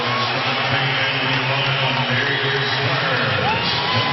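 A packed basketball arena crowd roars during an NBA playoff game between Los Angeles and Houston, a dense, continuous wall of cheering and whooping that stays loud and unbroken throughout.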